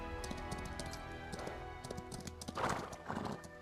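Horse hooves clip-clop rapidly in a steady run in the video game Chrono Odyssey, with a horse whinnying partway through, heard without speech.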